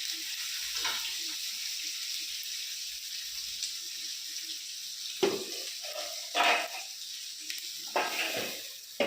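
Fish fries in a pan with a constant hiss. Sharper spatters and pops come now and then, and a lid or utensil knocks a few times near the end.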